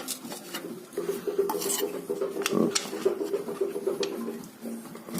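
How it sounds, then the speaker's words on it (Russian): A screwdriver scrapes silumin residue out of a Daewoo Lanos engine, giving close, steady rasping and rubbing with occasional metallic clicks and no talk. "Сейчас мне осталось вот тут вычистить отверткой остатки силумина."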